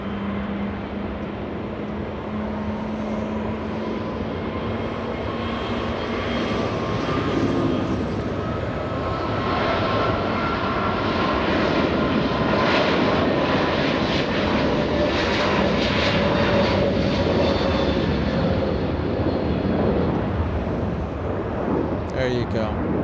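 A Hawaiian Airlines airliner at LAX roars with a sustained jet engine drone that swells and holds loud and steady, with a faint rising whine laid over the rumble.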